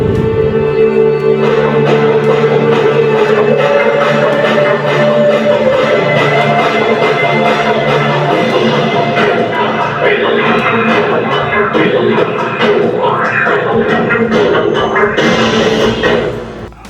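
Music plays at full volume through the built-in audio system of a Tata Nexon EV electric car, a dense, loud and steady mix filling the cabin for the whole stretch without pause.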